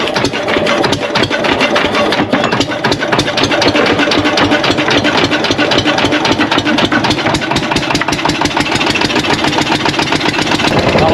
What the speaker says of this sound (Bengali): আমাদের ভটভটি জাস্ট ইঞ্জিন স্টার্ট দিয়ে ছেড়ে দিয়েছে